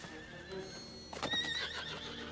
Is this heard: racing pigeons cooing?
no